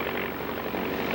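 The racing airplane Mr. Mulligan, winner of the Thompson Trophy race at Cleveland, gives a steady, loud engine roar with a broad, unbroken drone. No one speaks.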